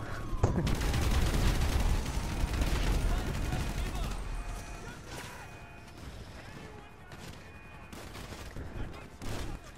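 Rapid bursts of gunfire from the video game GTA 5, loud and dense for the first few seconds, then thinning into sporadic shots, with someone talking over much of it.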